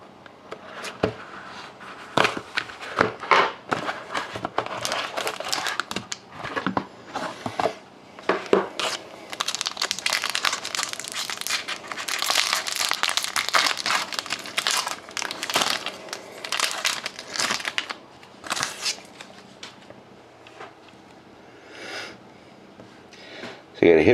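Foil packs from a 2011-12 Upper Deck Ultimate Collection hockey card box crinkle and crumple as they are torn open, with bursts of rustling on and off and a person talking over much of it.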